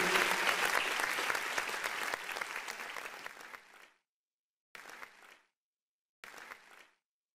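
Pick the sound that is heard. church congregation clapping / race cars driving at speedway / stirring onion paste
church congregation clapping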